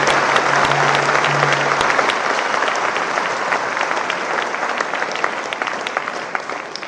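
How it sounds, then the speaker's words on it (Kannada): A large audience at a public felicitation event claps loudly and steadily for four achievers, with dense applause close and sustained from start to finish. "ಆ 4 ಸಾಧಕರಿಗೆ ನಿಮ್ಮ ಕೈಯಲ್ಲಿರುವಷ್ಟು ಶಕ್ತಿಯಲ್ಲಿ ಒಂದು ಚಪ್ಪಾಳೆ ಮೂಲಕ ಅವರಿಗೆ"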